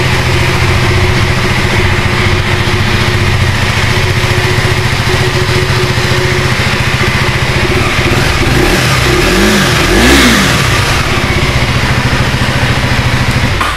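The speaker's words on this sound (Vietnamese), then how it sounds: "Mình sẽ cho anh em nghe tiếng máy ha." A 2019 BMW C400X scooter engine running loud and close, idling steadily before two quick revs rise and fall near the end, with no talking over it.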